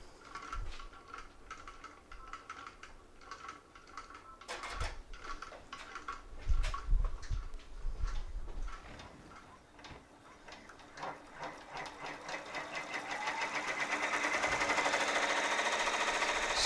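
An embroidery machine stitches an appliqué onto a T-shirt, giving a steady, busy mechanical whir with rapid needle clatter and a hum that swells louder toward the end, heard alone at moderate distance.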